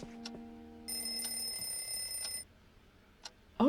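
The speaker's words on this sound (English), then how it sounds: "Alarm clock?" A ringing alarm clock in the video game Pokopia sounds a bright, sustained electronic tone for about a second and a half, with softer game chimes and blips before and after.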